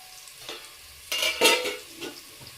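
Finely chopped onion with a spoonful of turmeric being sautéed in a pan, a soft sizzle broken by a few quick stirring scrapes near the mic.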